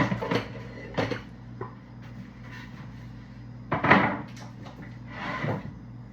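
A wooden chopping board is set out and handled in a home kitchen before prepping a pork sirloin pot roast, giving several sharp knocks and clatters separated by quieter shuffling, close by and without talk.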